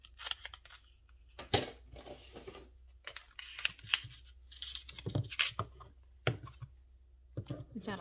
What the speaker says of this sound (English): So I'll just cut this with scissors.